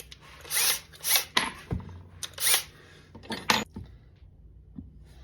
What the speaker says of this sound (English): let's get this first hole drilled.